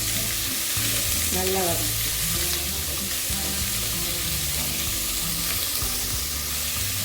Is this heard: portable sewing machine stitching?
no